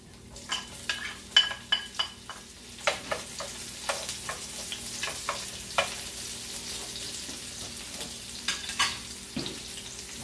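Onion frying in a pan gives a steady sizzle, with repeated sharp scrapes and clinks of a utensil stirring against the pan, irregular but frequent and close, and no talking.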